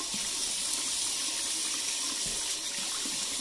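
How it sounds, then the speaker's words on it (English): Water runs steadily from a tap into a sink while a face is rinsed with cold water after shaving, a continuous bright splashing hiss with small bursts as hands move through the stream. "now go ahead and rinse your face with cold water and close the pores up"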